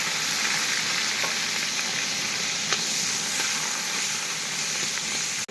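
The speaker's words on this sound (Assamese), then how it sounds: "আগতে পিঁয়াজ জলকীয়া ফ্ৰাই কৰি লওঁ।" Onions and green chillies fry in hot oil for a vegetable dish, a loud, steady sizzle that runs unbroken throughout with a few faint stirring clicks.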